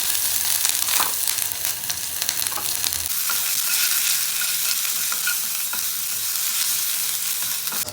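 Garlic and ginger paste frying in a pan with cloves and cinnamon for channa masala, giving a steady, loud, close sizzle throughout with occasional stirring scrapes.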